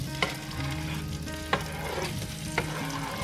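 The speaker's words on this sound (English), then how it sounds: "Going to stir these around and brown them up" Kielbasa sausage frying in butter over medium heat, a steady close sizzle with three sharp clacks of a utensil stirring the pan, no talking.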